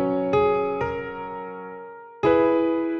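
Grand piano chords from a free grand piano software plugin ring out, three struck notes sustaining and slowly decaying, clear and close with no talking.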